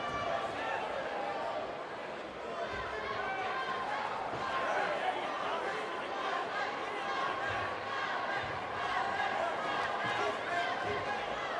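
Packed arena crowd at an XKO fight event, a steady roar of cheering and chatter that keeps up evenly for the whole stretch, with commentators' voices running over it.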